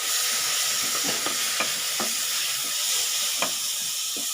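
Finely chopped tomatoes stir-fried with eggplant for a bharta-style dish, a steady hiss of frying with a spatula scraping and clacking against the pan at irregular intervals, close and fairly loud, with no voices.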